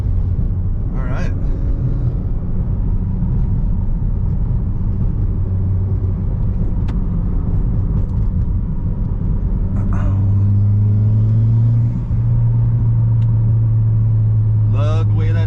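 A Mitsubishi EVO X turbo engine runs through a low rumbling cruise in a school zone, then pulls harder with a rising drone near the end. A voice is heard over the cabin noise.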